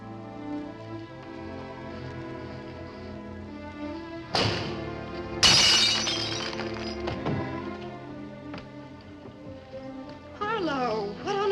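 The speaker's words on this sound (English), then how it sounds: "if you shatter a pane of glass in the dead of night, it makes a noise." A window pane shatters in the dead of night, with a loud crash and a second burst of breaking glass over orchestral film music, followed by tinkling fragments.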